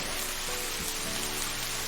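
Steady, dense hiss of heavy rain falling without a break in an animated Hindi story, at an even level with no voices.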